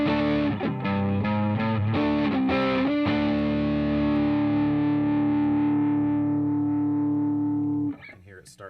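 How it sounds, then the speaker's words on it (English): Electric guitar through a Matthews Effects Cartographer overdrive pedal with the gain raised: several gritty strummed chords, then one long distorted chord ringing out and fading before it is cut off. "if we give it a little bit more gain, it has quite a bit of range gain-wise."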